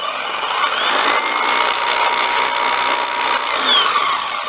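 A Makita brushless cordless hammer drill runs steadily and loudly on its own for several seconds, a continuous high motor whine with no talk over it.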